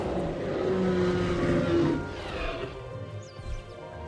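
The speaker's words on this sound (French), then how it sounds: "Et là, t'as la petite bagnole qui arrive pour faire un scan" A small vehicle drives up to do a scan in the dinosaur park of Jurassic World Evolution 2, a steady engine drone that swells and then eases off, with faint game ambience beneath.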